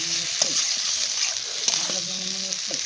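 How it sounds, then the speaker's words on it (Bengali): Boiled potatoes and whole peas being stirred in a frying pan with a spatula for a vegetarian curry, giving a steady sizzle with light scraping and tonal clinks. There are some faint background sounds, but no clear speech. "এইবার দেখো নাড়াচাড়া করতে হবে কিছুক্ষণ।"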